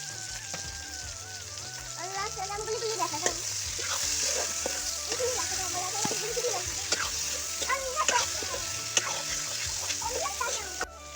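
Continuous sizzling and crackling from a pan of fried meat and potatoes as tomatoes are added, with occasional stirring scrapes and faint talk in the background.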